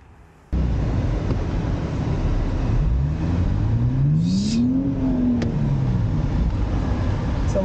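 A tuned Nissan Z kicks in suddenly and accelerates hard, its loud, close engine note sweeping up in pitch and then easing back down over a steady roar of road and wind noise.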